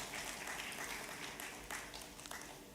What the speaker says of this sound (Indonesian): berikan tepuk tangan paling meriah untuk Tuhan Yesus Kristus